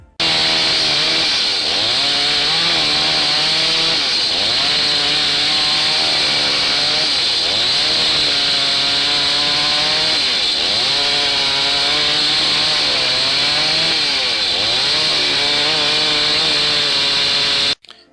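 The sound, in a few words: electric chainsaw cutting firewood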